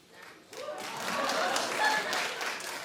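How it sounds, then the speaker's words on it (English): Studio audience on a daytime talk show breaks into applause, a dense wash of clapping that swells and holds steady for a couple of seconds at moderate volume. "Clap if you watched."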